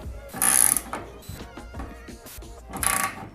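A tool works on a garage door spring while its set screws are tightened, giving two loud bursts of ratcheting clicks with quieter metallic handling and clinks between them.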